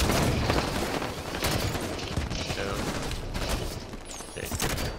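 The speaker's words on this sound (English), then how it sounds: "I hear a shotgun." Gunfire in Halo 5 Guardians multiplayer, with a dense, rapid barrage of shots and blasts continuing throughout, loud and close, amid game effects and a brief electronic chirp near the end.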